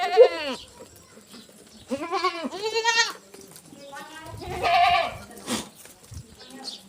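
Goats bleat several times, close by, while eating leaves at a farmhouse, with wavering calls in separate bursts and people talking quietly in between.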